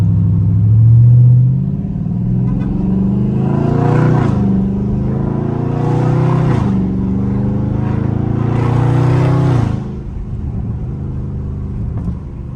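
A Dodge Charger Scat Pack driving on a residential street, its engine rumbling low and rising in three distinct revving pulls as it accelerates through gears, heard from inside the car, then settling back to a quieter idle.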